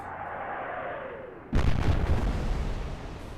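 Warship guns fire one heavy boom in an Atlantic Fleet naval battle, breaking in sharply over a low engine-like drone and rolling off into a long, fading rumble.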